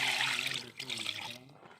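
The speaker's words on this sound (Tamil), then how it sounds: "கப்ப பிரியாணிக்கு ஃபர்ஸ்ட் வந்து நாங்க பீஃபை நல்லா கழுவி எடுக்க போறோம்" Water runs steadily from a tap while beef is washed for kappa biryani, a close, hissing splash that briefly dips and then continues before fading near the end.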